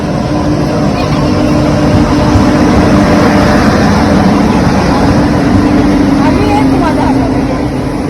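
Konkan Railway train pulling into Vaibhavwadi station in the middle of the night, a loud, steady rumbling drone of the locomotive and coaches close by, with people speaking over it.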